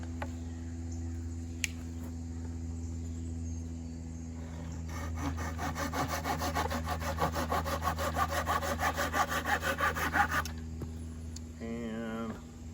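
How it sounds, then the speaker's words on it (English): Hand saw cutting a curve off a piece of damp water oak, a run of steady close back-and-forth rasping strokes over a low engine-like hum, ending in a brief squeaky scrape. "let's cut this hard curve off right here."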